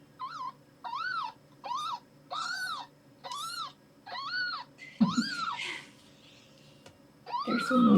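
Smudge, a mother cat, and her newborn kittens make a close, steady series of about seven high, wavering meows at a regular pace, followed by some rustling and a louder final cry.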